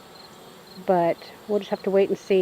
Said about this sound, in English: I don't know if you can see them, but there's tons of bees